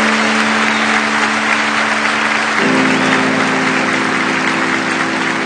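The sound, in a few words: church congregation applauding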